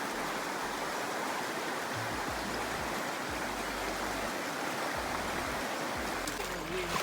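A small stream rushes steadily over rocks in a narrow canyon at Zion, with a little waterfall just upstream, a continuous full-bodied water roar. A few low bumps like footsteps or wind on the microphone sit under it.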